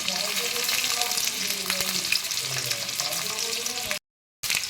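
Onions and green chilies frying with nigella seeds in hot oil, a steady close sizzle with occasional stirring scrapes, cut by a brief silent gap near the end.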